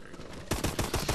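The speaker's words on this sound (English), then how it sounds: "let me just finish all my pistol ammo" Rapid pistol shots in a Call of Duty Advanced Warfare Zombies game on the Outbreak map: a quiet lead-in, then about five sharp, loud reports in fast succession.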